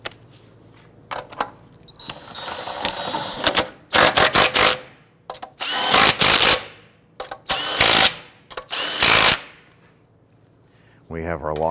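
An impact tool snugging down the lug nuts on a 2008-2013 Infiniti G37 wheel, several short loud bursts of rapid hammering spaced a second or two apart, with clinks and handling noises between them.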